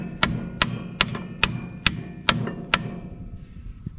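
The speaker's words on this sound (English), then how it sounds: "I'm gonna take my hammer" A hammer striking a brake part on a log truck during brake disassembly, about eight sharp metallic blows at a steady pace, close and loud, with the last strikes slightly fainter.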